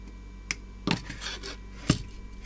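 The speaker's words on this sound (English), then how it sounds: "Just trim the pins off this." Component pins being cut off a repaired PCB, giving a few sharp snips and clicks close by, separated by quiet handling noise.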